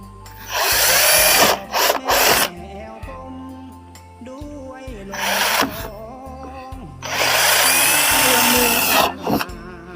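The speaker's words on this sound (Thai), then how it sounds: "เราก็เจาะเจาะให้มันเยอะ ๆ เลย แล้วก็เอาลวดมาร้อย" A power drill whines loudly in long bursts, boring many holes for threading wire, stopping and starting several times with short pauses between runs.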